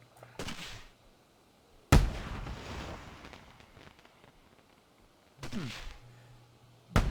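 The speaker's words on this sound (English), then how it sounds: "Really big launch for a tiny firework. Huge launch." In the Planet Coaster 2 video game, fireworks launch with sharp bursts, each followed by a fading whooshing roar, about four separate launches spread apart against a quiet background.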